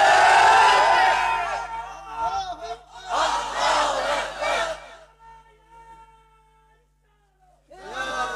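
A crowd at a religious sermon roars chanted slogans in loud, massed bursts answering a preacher's calls, with pauses of near silence between the responses.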